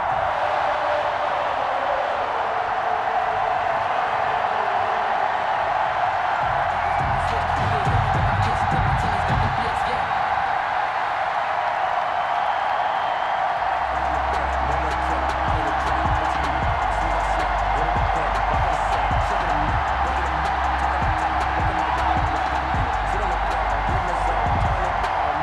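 A stadium crowd at Arrowhead roars throughout a Madden 21 game between Kansas City and Buffalo, a steady wash of cheering beneath a commentator's continuous talk.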